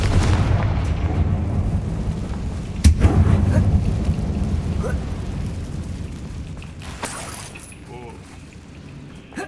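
A Confringo blast spell goes off inside an old mine in Hogwarts Legacy, a sudden loud boom over a low rumbling ambience that slowly fades, with a few smaller impacts and crackles afterward.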